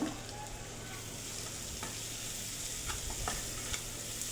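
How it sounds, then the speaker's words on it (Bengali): Spices mixed with paste and salt stirring in a hot pan for a Bengali meat dish: a soft, even sizzle with a few faint scraping strokes, fairly quiet. "এখন ভালোভাবে মশলাগুলো সুন্দর করে মিশিয়ে নেব।"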